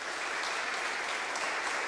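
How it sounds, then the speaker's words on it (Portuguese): A church congregation bursts into sustained, steady applause, a loud even wash of clapping from many hands filling the room. "Será que você pode aplaudi-lo nessa noite?"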